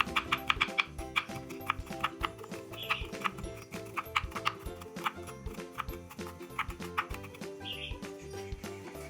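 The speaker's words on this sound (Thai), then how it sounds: "หั่นเสร็จเรียบร้อยแล้วนำมาสับเป็นชิ้นเล็กๆ" Quick, rhythmic knife chops mincing garlic knock against a cutting board over soft background music, the taps coming in steady bursts.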